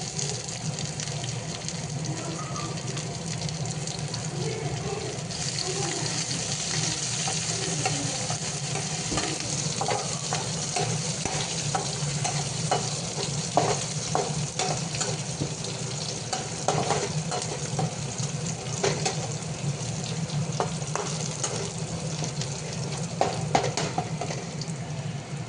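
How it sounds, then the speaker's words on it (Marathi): Chillies tossed into a hot pan and stirred give a steady, close frying sizzle with scraping spoon strokes throughout, alone and continuous. "आता आपण मिरची टाकू"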